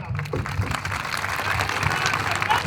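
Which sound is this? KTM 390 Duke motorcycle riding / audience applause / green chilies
audience applause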